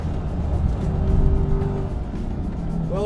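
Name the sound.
Chevrolet Corvette E-Ray hybrid AWD driven in track mode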